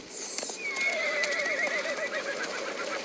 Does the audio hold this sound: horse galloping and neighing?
yes